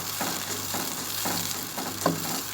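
Steady sizzling of onions frying in a pan, a continuous crackling hiss with faint stirring scrapes and a brief louder clink near the end.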